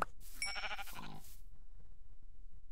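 Sheep bleating in a video game, a single drawn-out bleat with a wavering tone, fairly close and heard alone over a faint background hiss.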